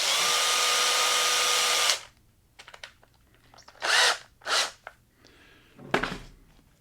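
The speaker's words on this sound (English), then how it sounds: "stick it in the end of your cordless drill" A cordless drill spinning a tool for sharpening whirs steadily at high speed for about two seconds, then stops, followed by scattered clicks, rustling and a few short bursts of noise.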